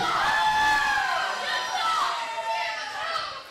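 A wrestling crowd at a live ProSouth Wrestling event jeers wrestler Scott Spade, a dense, continuous roar of voices with rising and falling shouts that holds steady throughout.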